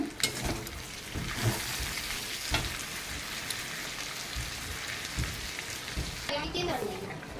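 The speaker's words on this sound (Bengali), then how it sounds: "তরকারি কিন্তু এখন ফুটে উঠেছে।" Curry bubbling and sizzling in a pan with turmeric, salt and sugar added, a steady crackling hiss with scattered pops, near and moderately loud, with occasional stirring knocks.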